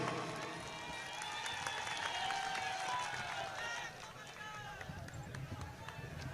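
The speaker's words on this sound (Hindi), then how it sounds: "जोरदार तालियों से कमलनाथ जी का आप स्वागत कीजिए।" Crowd applause welcoming Kamal Nath at a Bharat Jodo Yatra rally held at Tantya Mama's birthplace in Pandhana, Khandwa: steady, dense clapping from a large outdoor gathering, with a slight dip in level partway through.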